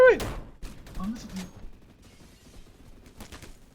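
Gunfire in the Roblox first-person shooter Energy Assault, with sharp shots at the start and scattered lighter bursts after, under a man's excited speech.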